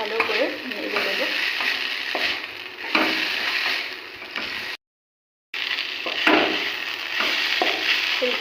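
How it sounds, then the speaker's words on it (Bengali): Fried banana stem is stirred into masala in a pan, giving a loud, steady sizzle with repeated spatula scrapes. The sound cuts out briefly and then resumes, close and with no talk. "থোড়টা দিয়ে খুব ভালো করে নেড়ে দেবো।"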